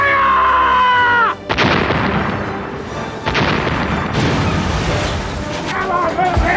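Several booming cannon blasts go off in a pirate movie trailer, loud and sharp with long rumbling tails, after a shouted line and mixed with dramatic sound effects and voices.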